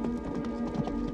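Horses in a 1974 film of The Four Musketeers, with a fast run of hoof clip-clops and taps under a steady tonal background, loud and close throughout.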